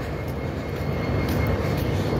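A Norfolk and Western locomotive rolls past in a heavy freight power move, giving a steady, loud rumble with low engine drone and rail noise throughout, no voices.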